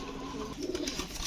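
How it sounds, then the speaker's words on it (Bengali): Pigeons kept for sale coo softly in a loft, a low, continuous burbling murmur heard close by with faint rustling over a short stretch. "তো এই 3 জোড়া কবুতর কোনো ভাই বন্ধুর যদি পছন্দ হয়ে থাকে"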